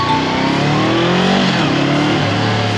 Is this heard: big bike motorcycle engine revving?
yes